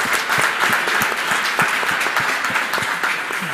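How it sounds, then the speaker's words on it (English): An audience at a conference debate on Ukraine and the Black Sea region applauds a panel, sustained hall clapping with distinct individual claps, steady and close. "please give a round of applause for a very good panel"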